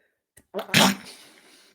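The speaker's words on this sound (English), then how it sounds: "That was not the cutest sneeze in the world" A single loud, close sneeze with a brief sharp intake of breath before the explosive burst, trailing off into a breathy tail.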